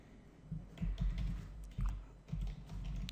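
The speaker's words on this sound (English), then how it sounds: "Now we type" Fingers type on a computer keyboard in quick, soft bursts of key clicks, faint and close, with short pauses between runs and no speech.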